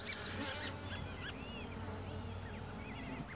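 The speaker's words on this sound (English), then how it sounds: "Two robins fighting over there." Two robins squabble somewhere nearby, their short rising and falling chirps and scolding whistles repeating over a steady outdoor hum, with several sharp bursts of calls.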